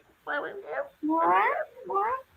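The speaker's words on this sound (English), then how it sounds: "Is that your cat talking, by the way?" A young house cat meows in three drawn-out, chatty calls, fairly close and clear in a quiet room, with pauses between them.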